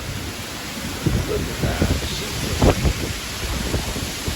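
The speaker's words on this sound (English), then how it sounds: "Heavy rain and wind like crazy." Heavy rain and strong gusting wind from Hurricane Beryl in Houston roar as a constant hiss buffeting the microphone, with thumping gusts. A person speaks briefly over the storm.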